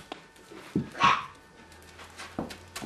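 Puppies give a few short, high yips and barks with brief whimpering, close by and fairly loud, separated by quiet gaps.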